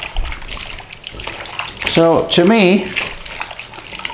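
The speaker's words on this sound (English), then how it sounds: "Slightly rinse off the water, look." Water runs and splashes steadily while raw potato chips are rinsed for British fish and chips, with someone talking briefly over the flow.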